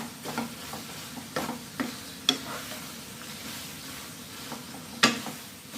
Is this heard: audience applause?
no